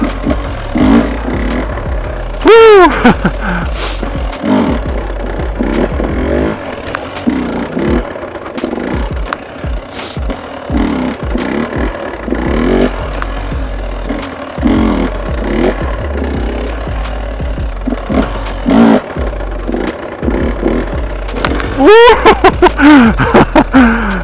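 A car engine revs hard and repeatedly during clutch-kick drifting on a New Year's Eve drive, rising and falling bursts of throttle with clattering over a continuous rumble.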